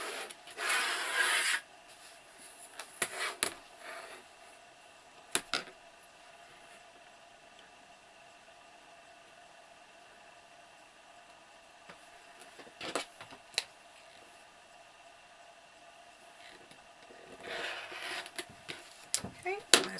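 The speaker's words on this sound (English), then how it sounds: "I'm gonna trim off those selvage edges on the end here" Fabric selvage edges being trimmed off while sewing a wrist strap: short rasping cuts in scattered bursts, the loudest at the start and near the end, separated by quiet stretches.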